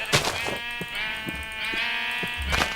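Sheep bleating in the video game Minecraft, a few wavering, nasal bleats coming close together over a steady background, with no one talking.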